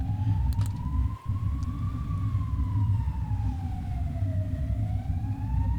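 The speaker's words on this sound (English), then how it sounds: "From under the water, it's an ambulance siren." A video game ambulance siren, heard from under water, wails, rising and falling slowly over a loud, steady low rumble, continuous throughout with a brief dip in the rumble early on.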